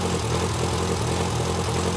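A 1945 Waukesha ICK auxiliary power unit engine fitted with lift truck spark plugs runs at a steady, even drone close by, with no talking over it.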